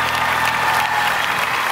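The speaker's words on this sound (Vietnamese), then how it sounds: "Vỗ tay, vỗ tay." A studio audience at a Vietnamese television show claps in loud, dense applause that runs unbroken for the whole moment.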